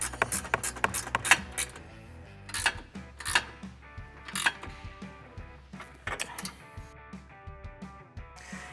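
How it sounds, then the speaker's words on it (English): A ratchet wrench tightens a front sway bar link on a Can-Am Maverick R, giving bursts of close metallic clicking and ratcheting with pauses between them and no voices. "now we'll tighten up our sway bar link"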